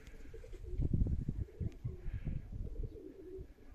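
Baku pigeons cooing outdoors in a snowstorm and hard frost, soft repeated low coos rising and falling over a steady windy background.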